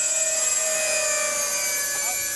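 Three RC model jet planes fly in formation with a steady high whining turbine drone and sustained tonal engine noise. The sound is fairly loud and constant, with no talking.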